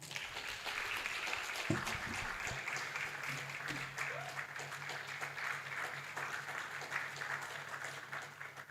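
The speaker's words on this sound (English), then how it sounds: "please, a round of applause and help me welcome Zipporah Dankwa." A crowd applauds steadily for several seconds, a dense patter of clapping with a few louder bumps near the start.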